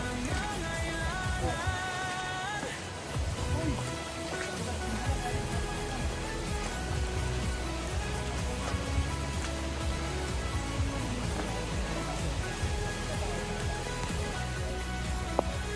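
Steady rain falling in an outdoor rural setting, a constant close hiss of drops that continues unbroken throughout, with faint scattered background sounds.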